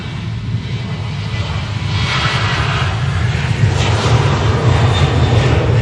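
A Ryanair jet at Manchester Airport, its engines roaring loud and steady and growing slightly stronger as the aircraft passes close by.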